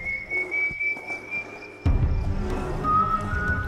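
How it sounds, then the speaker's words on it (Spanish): Eerie whistled melody from the legend of El Silbón, a thin sustained tune held steadily, then fading before a lower whistled phrase returns against a fuller, noisier background. "siempre silbando su infernal melodía"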